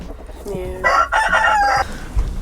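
A big Frizzle Silkie rooster crows once, loud and close, inside a homestead chicken coop, with softer clucking from the hens before and after.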